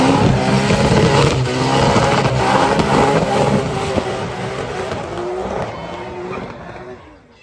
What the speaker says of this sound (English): So I got Cam coming through in the Skyline.